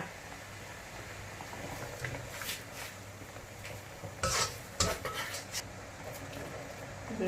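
A utensil scrapes and stirs chicken feet curry in a pot, with soft clinks and knocks against the metal over a low sizzle and faint background murmur.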